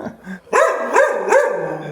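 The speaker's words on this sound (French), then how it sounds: "par les chiens, eles fazem muito barulho" Dogs at a home in Brazil bark three times in quick succession, loud and close, after a faint low growl, with no talk over them.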